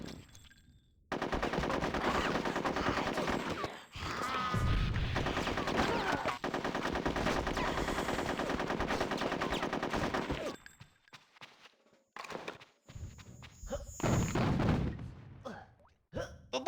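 Rapid automatic gunfire from the video game Conker's Bad Fur Day rattles in long continuous bursts, then breaks into shorter volleys with gaps between them.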